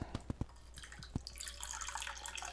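Ice water poured and dripped into pie dough in a kitchen, with a few soft splashes and drips followed by a steady liquid trickle, close and quiet.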